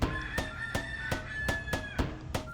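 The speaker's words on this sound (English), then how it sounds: "Yes, that was a rooster." A rooster crows in Willacoochee, Georgia, its drawn-out call carrying over a steady background rumble broken by regular rapid ticking pulses.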